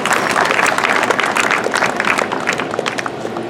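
A church congregation applauding at a memorial tribute, loud, dense and steady clapping from many hands throughout.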